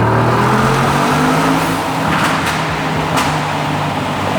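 A Mercedes G-Wagon accelerating hard in a tunnel: a loud, sustained engine roar with rising tones and reverberant rumble, continuous throughout with a brief louder surge partway, no talking.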